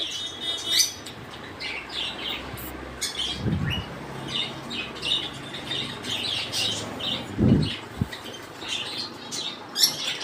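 Giribaz and Madras pigeons in a loft give scattered soft chirps and calls, with two brief bursts of flapping wings over a steady low background.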